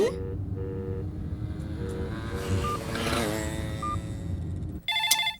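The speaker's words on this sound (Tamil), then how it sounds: "உனக்காக நான் வச்ச ரிங் டோன் கேக்குதா?" A phone ringtone plays faintly over steady road and engine noise, with a brighter electronic chime sounding near the end.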